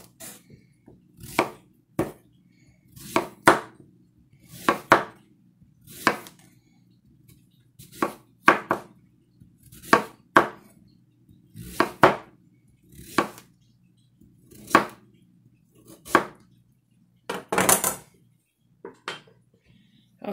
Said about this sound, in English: Once again, letting the weight of the butcher knife do the work,